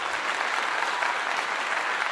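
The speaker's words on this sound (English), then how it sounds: "let me clap that up" Dense, steady applause, like a canned or crowd clapping effect, fills the full two seconds at an even, loud level with no voices.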